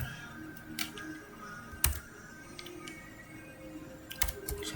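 Code typed on a computer keyboard during a programming lab session, sparse scattered clicks and one sharper keystroke, quiet and close, with no voices.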